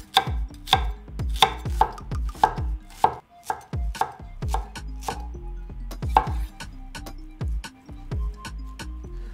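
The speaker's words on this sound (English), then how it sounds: "Let's cut up some cilantro, some onions, and let's start making these tacos." A knife chops cilantro and onions on a cutting board for birria tacos, a steady run of sharp, close knocks in quick bursts with brief pauses, alone without talk.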